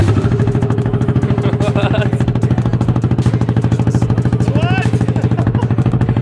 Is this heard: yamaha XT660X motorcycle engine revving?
yes